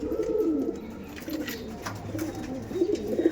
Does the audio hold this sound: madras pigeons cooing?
yes